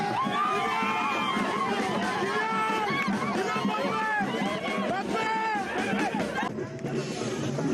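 A huge crowd of fans cheers and chatters outside Yaoundé's international airport, a dense, steady roar of many voices with shouts rising above it throughout.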